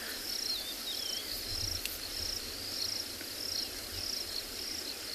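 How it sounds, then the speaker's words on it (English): Birds call faintly in the South African bush on an afternoon safari in the rain, a few thin chirps and whistles over a steady dense chorus of insects. "You can hear some birds calling in the background."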